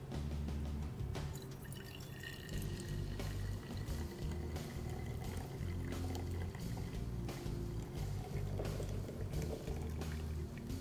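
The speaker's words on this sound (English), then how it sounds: "Pour the mixture into" A yeast and sugar mixture is poured into a plastic bottle or flask, heard as a close, steady trickle and drip of liquid that runs throughout.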